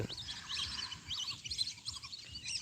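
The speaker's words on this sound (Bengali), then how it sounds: "এই যে দেখো পরিযায়ী পাখিগুলো উড়ে যাচ্ছে" A flock of migratory birds chirping and calling together overhead at a distance by the Jalangi River, a busy high twittering over faint low background noise.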